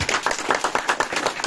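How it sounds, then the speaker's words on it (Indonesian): Rhythmic group clapping at a village Pos Kamling competition event, steady evenly spaced claps from a modest crowd lasting a brief moment, fairly close and moderately loud. "Tepuk tangan."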